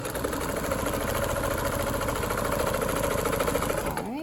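Vintage blue-green Brother cam-driven sewing machine with built-in zigzag stitching at steady speed, a dense continuous rapid motor whir and needle clatter held close and even before stopping at the end.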